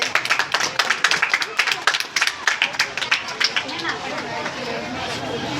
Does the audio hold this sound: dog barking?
no